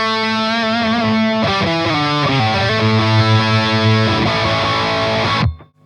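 Electric guitar played through a Friedman BE-100 Deluxe amplifier, loud distorted sustained chords shifting through a few changes before cutting off abruptly at the end.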